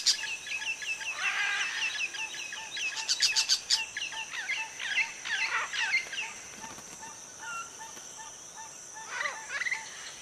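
Great green macaws calling around an almendro tree, with a steady run of harsh, repeated squawks and chirps that overlap and swell in short bursts across the whole stretch, with no voices.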